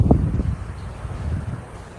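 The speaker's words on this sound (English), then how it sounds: "It's kind of windy right now, but that's fine." Wind gusting outdoors on a nature walk, buffeting the microphone with low rumbling bursts that ease and return, steady and fairly close with no talk.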